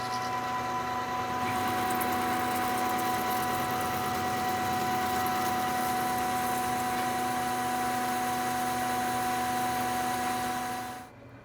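A metal lathe faces off a part for a belt sander drum mandrel, a steady motor hum with tonal whine and light cutting noise that runs evenly, then winds down at the end.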